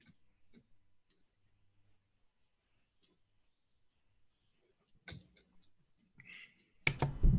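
Sparse, faint clicks of typing on a computer keyboard in a quiet room, followed by a short burst of louder noise at the end.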